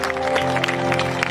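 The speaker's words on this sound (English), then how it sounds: "can you just applaud for you coming out for love today?" An audience applauds at a gathering about loving LGBTQ+ children, a dense, steady patter of clapping that runs throughout over a low musical background.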